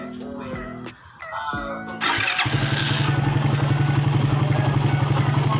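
A motorcycle re-jetted with a 38 slow jet on its carburetor fires up after some whining, mewing tones and settles into a steady, close, even idle that runs to the end.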